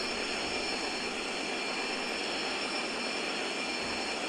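Inside a Boeing 737 rolling down the runway for takeoff in Seattle, a steady, even roar of engine and rolling noise fills the cabin without a break.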